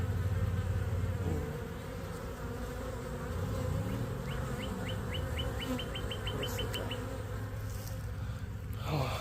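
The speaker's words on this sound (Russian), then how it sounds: "Смотрю, пчелки пошли." Honeybees buzzing around a hive entrance as foragers return from the field to a newly opened split, a steady close drone of many wings with a short series of bright chirps in the middle and no talking.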